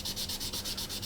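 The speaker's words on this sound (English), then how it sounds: "So when you're sanding as well, like I'm doing here" Steady close-up sanding of a small part for a model military helicopter such as a Chinook or UH-60 Black Hawk, a continuous rhythmic rasp of strokes about five per second, loud and alone.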